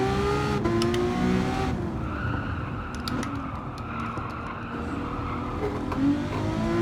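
A black Ferrari LaFerrari races in Gran Turismo 7, its engine revving loud and continuous with rising and falling gear-change sweeps and brief tire squeals, no voices.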